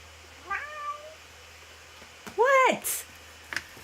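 A house cat meows twice, one short rising call early and a louder, longer drawn-out meow a couple of seconds later, close and clear against a quiet room with a low hum.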